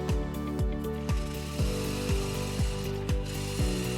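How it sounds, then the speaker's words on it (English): A jigsaw cuts through a metal whiskey barrel hoop, giving a loud, steady mechanical buzz with a regular ratcheting pulse about twice a second, up close and with no speech. "I'm cutting the metal whiskey barrel hoop in half with a jigsaw"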